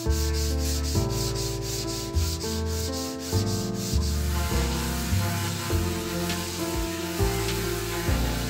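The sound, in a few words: sanding wooden candy dispenser pieces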